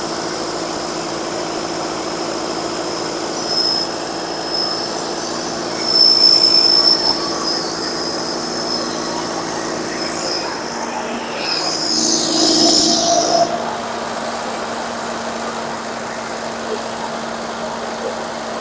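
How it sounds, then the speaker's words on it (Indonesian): A 2023 Toyota Innova Zenix engine idles with a steady mechanical hum, then is revved twice in two separate rising bursts before settling back. The engine is heard close and alone, with no talking. "Air tuning sudah habis, kita lakukan pengegasan."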